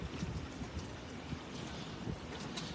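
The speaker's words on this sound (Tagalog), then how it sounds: "Ang malakas po ngayon is yung hangin." Constant rushing wind roar, fairly strong, at a river during cast net fishing, with faint watery wash underneath and no voices.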